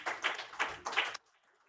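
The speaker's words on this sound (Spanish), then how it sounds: "Den un aplauso al Señor." A church congregation claps in praise, three quick bursts of applause close by before it cuts off to near silence.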